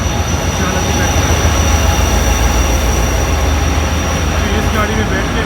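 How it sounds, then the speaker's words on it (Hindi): Shalateep Express train arriving at a railway station in Sindh, Pakistan, a steady loud rumble of wagons and wheels rolling close by throughout, with no pause. "This train right now coming."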